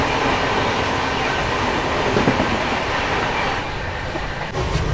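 Gol Gumbaz Express passing alongside on the adjacent track, a steady, loud rumble of wheels and rail clatter filling the whole stretch with no voices.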